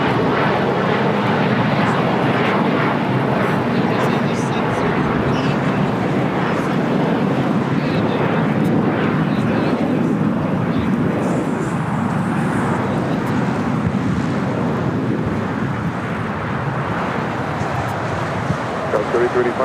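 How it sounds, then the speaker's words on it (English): A KLM Boeing 787-9 Dreamliner takes off from LAX runway 25 right, bound for Amsterdam, with a loud continuous jet engine roar that stays steady throughout and a voice faintly audible underneath. "Next takeoff on the south side on 25 right is KLM flight 604, 787-9 Dreamliner heading back to Amsterdam."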